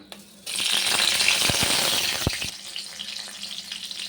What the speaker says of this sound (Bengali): এর জন্য কড়াতে সামান্য তেল দিয়ে দিয়েছি। এরপর দেব কাঁচা লঙ্কা